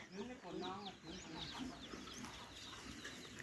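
A flock of chickens kept at a rural farmstead alongside cattle, clucking in busy overlapping calls and short squawks, fairly faint and distant under a steady outdoor background.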